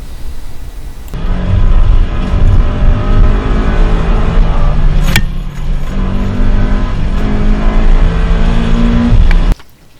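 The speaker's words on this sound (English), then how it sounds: "This is my teammate Senko taking the same corner and he starts to slide too" A race car slides through a corner on track, its engine loud and sustained at high revs with shifting harmonic tones, a brief sharp burst near the middle, then an abrupt cutoff near the end.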